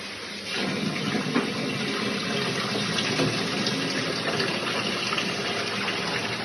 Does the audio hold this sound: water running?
yes